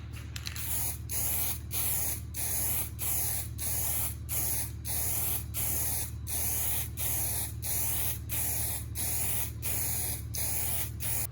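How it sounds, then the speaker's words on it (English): A homemade slip tank for a short-box pickup gets its first coat of spray paint: a dozen rhythmic, evenly spaced hissing bursts of spray over a constant low hum, close and loud. "There's our first coat of paint."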